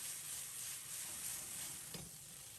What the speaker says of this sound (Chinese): 油热以后，放入腌好的鸡翅，在锅中煎制